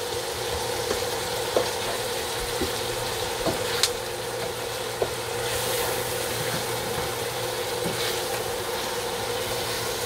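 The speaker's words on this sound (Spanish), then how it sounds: "Dejémoslo sofreír otro poco" Longaniza sausage fries in a pan with seasoning, giving a steady, close sizzle with occasional crackles and pops throughout, and no voices.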